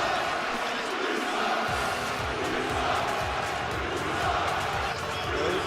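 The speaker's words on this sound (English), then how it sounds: "You can hear a crowd reaction, and Andrade's taking it in." Arena crowd noise from the WWE 2K18 wrestling video game: a steady, dense roar of cheering and shouting that stays loud throughout, with rhythmic thumps and slaps starting partway in.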